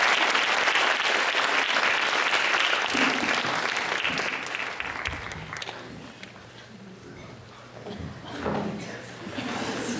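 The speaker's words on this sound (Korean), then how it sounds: "박수 한번 쳐주세요." A congregation at a Korean CCC Friday chapel service applauds loudly for several seconds, then the clapping thins and fades while footsteps, shuffling and faint voices take over, with scattered claps returning near the end.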